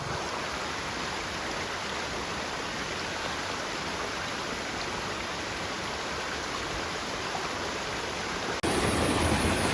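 A river stream flows through humid, dense forest on Gunung Kawi near Malang, a steady broadband rush of running water that stays even throughout and turns suddenly louder and brighter near the end.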